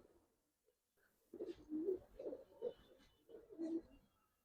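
A Giribaz pigeon coos in a few soft, rhythmic bursts, close by and fairly quiet, with no talking.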